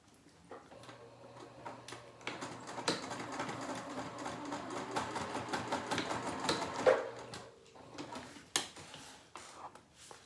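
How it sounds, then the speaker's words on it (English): Sewing machine stitching the lining of a Devon pouch, a steady rapid mechanical whir running for several seconds with ticking clicks, then stopping and followed by a few scattered handling knocks. "I'm getting to the lining part and I'm not going to sew it completely closed."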